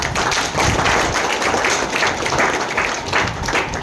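Loud, dense clapping from an audience at a library gathering honouring a teacher, sustained and fairly close for the whole few seconds with no voices over it.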